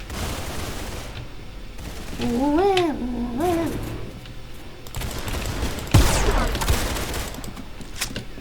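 Gunfire in the Roblox-style shooter game Arsenal: bursts of rapid shots over steady game noise, with a sharp loud crack near the end and a brief wavering vocal-like tone partway through.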